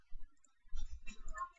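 Sharp mouse clicks at a computer desk, a few quick taps spaced across a short moment, fairly quiet with faint background noise.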